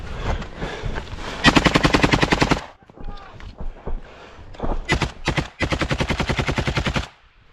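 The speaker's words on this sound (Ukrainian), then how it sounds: "Це автомат напарника." An assault rifle firing in real combat: loud, close bursts of rapid automatic fire in rhythmic strings, broken by short pauses with scattered single shots and faint background sounds.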